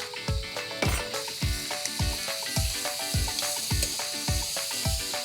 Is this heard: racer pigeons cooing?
no